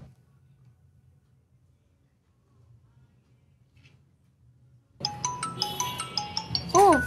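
After a quiet stretch with a low hum, a mobile phone ringtone for an incoming call starts suddenly and plays a bright repeating chiming melody, loud and close.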